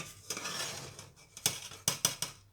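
Mutanjan, a sweet rice dish cooked with mutton, is served onto a dish, with soft scraping followed by several sharp, close metal-on-dish clinks, heard alone.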